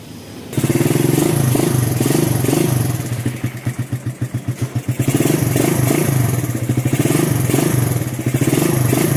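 A Suzuki Raider 150 motorcycle engine running on test after a carburetor adjustment, loud and close, with a steady fast idle that briefly pulses unevenly before settling back to a constant throb.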